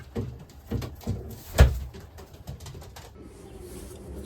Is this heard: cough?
no